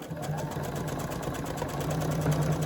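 A sewing machine stitches through a quilt, its motor running steadily with a rapid needle rhythm at close range for a brief stretch, with no talking.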